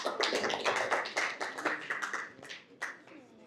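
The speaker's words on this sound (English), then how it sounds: "A big round of applause for this hotel." Audience applause at a civil society data commons launch event, with a burst of crisp close claps fading into scattered taps over a few seconds.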